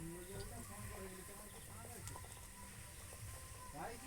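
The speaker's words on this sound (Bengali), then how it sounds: "এই তেলের মধ্যে দিয়ে দিচ্ছি।" Chicken cutlet coated in crumbs is laid into hot oil, giving a steady broadband sizzle and frying hiss that runs throughout, with a voice speaking over it.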